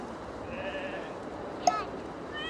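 A short, wavering sheep bleat rings out once as an animal call in the VR puzzle game Room Escape, moderately loud over low background hum.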